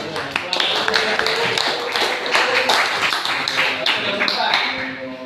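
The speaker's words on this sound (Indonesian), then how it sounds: "Tepuk tangan." Classroom applause during a student teaching lesson, with a group clapping hands. Sharp, uneven claps and taps from several people come in irregular bursts, close and fairly loud, with voices mixed in.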